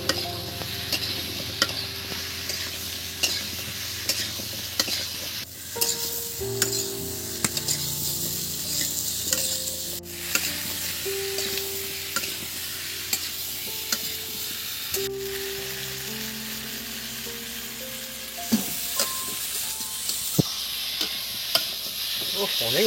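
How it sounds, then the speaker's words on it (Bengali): Chitol fish and potol fry in a pan under repeated stirring, with a steady sizzle broken by regular scraping clicks. Quiet music-like tones run underneath. "এটাকে ভালো করে আমি নেড়ে চেড়ে একদম তৈরি করে নেবো"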